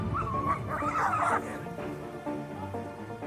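A German Shepherd and a pitbull fighting, with whining, yelping and growling dog noises at close range, loud at first and then tapering off into lower snarls.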